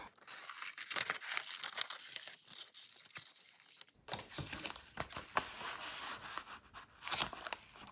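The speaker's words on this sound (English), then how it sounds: "So I'm just going to cut this out." Scissors cut out a paper picture for a junk journal cover, producing close crinkly snipping and rustling paper in uneven bursts, with a louder, busier stretch in the second half.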